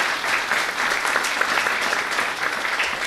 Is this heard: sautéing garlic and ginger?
no